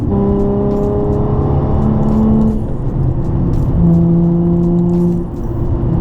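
A Nissan 350Z with a muffler delete hums steadily from inside the cabin, cruising in sixth gear, a smooth low exhaust drone with a slight pitch shift partway through.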